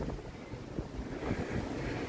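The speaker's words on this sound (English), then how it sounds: "The wind's picking up." Wind gusts along the Chicago riverwalk, a continuous low rushing and buffeting roar against the microphone, steady and fairly loud, with no voices.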